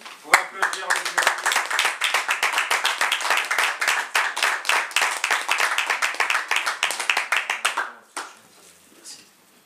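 Audience members at a French slam poetry event clap together in a brisk, fairly rhythmic run of sharp, close claps that stops abruptly near the end, followed by a short quiet stretch with a faint voice.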